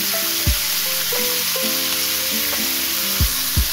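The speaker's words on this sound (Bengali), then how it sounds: "এই আলু বেগুনটাও কিন্তু আমি চাপা দিয়েই ভাজবো" Potatoes and brinjal fry in oil tinted with turmeric, a loud close sizzle with a steady hiss and a few sharp bursts where pieces are turned.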